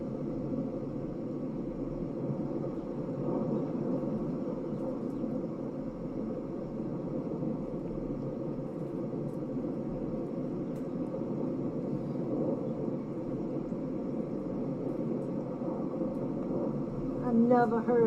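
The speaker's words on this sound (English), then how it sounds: "That roaring is thunder." A steady, unbroken roaring rumble rolls across the sky over Henderson, North Carolina, reported as thunder. It holds a constant low drone for the whole stretch without dying away, distant yet filling the space.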